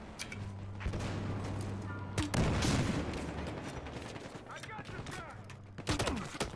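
A grenade explodes in a Battlefield match on the Bank Job map, a loud broadband burst amid chaotic gunfire and battle noise, with voices shouting over the action.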